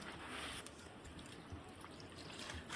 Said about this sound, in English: So I'm going to pour some ice water on the chicken.